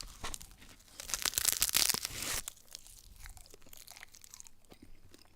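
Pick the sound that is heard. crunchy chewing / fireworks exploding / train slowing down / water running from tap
crunchy chewing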